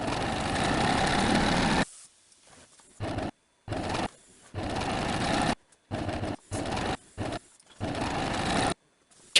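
A sewing machine stitches a cord one centimeter from the edge of a boho dress, running in close, loud whirring bursts of varied length separated by short pauses.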